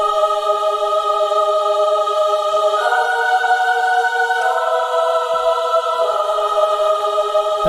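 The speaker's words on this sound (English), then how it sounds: "The choir is made with Native Instruments Contact." A synthesized choir from the Native Instruments Kontakt Olympus library holds sustained, layered vocal chords that shift to new harmonies twice, smooth and continuous with no other sound.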